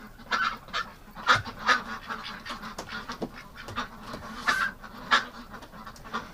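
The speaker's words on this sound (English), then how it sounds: "She's got that raspy sound to her quack." A duck gives a run of raspy, honking quacks, fairly close, in short irregular bursts with pauses between them, set outdoors in winter.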